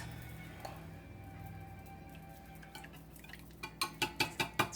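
Batter with vanilla extract for healthy zucchini muffins is mixed in a bowl, quiet at first, then a rhythmic series of seven or eight clinking utensil strokes against the bowl growing louder toward the end.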